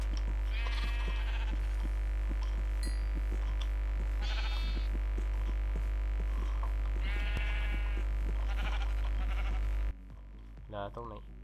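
Minecraft sheep bleat several times in a row, short wavering calls over a steady low hum, before a burst of speech cuts in at the end.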